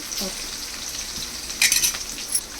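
Green chillies crackle and sizzle in hot oil while tempering for idli upma, a steady close frying hiss with a brief louder spatter burst near the end.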